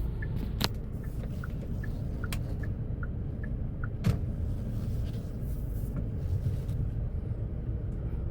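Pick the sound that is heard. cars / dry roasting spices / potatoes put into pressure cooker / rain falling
cars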